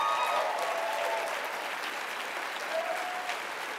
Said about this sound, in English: Y'all can clap up more for that.